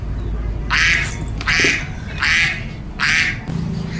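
Toy duck quacking sounds come in four evenly spaced, fairly loud bursts over a low steady background hum, in a play scene with animal toys.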